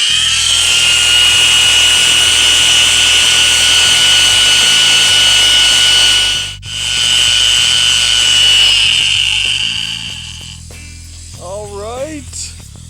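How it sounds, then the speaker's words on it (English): Petrified wood being polished with 6000 grit diamond pads, a loud steady machine whine that runs continuously, dips briefly, then cuts off and winds down toward the end. "That was the final step with the diamond pads. That was 6000 grit."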